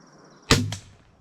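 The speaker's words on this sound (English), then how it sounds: "I grabbed my Walmart crossbow, aimed it low, expecting the deer to duck," A cheap Walmart crossbow fires at a deer in the woods: a single sharp snap, then a brief whooshing release and a softer second thump, set against a quiet outdoor background.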